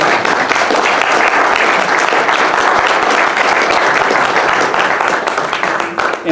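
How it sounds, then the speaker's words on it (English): A crowd gives a sustained round of applause before a question session at a talk, with dense, steady clapping filling the whole stretch and a single word spoken near the start. "Let's have a round of applause first."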